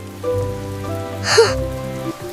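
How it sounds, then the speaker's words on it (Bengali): Cartoon rain patters softly on a surface beneath gentle background music, with a brief brighter splash in the middle of the short passage. "হ্যাঁ, বৃষ্টি শেষ হয়ে আসছে।"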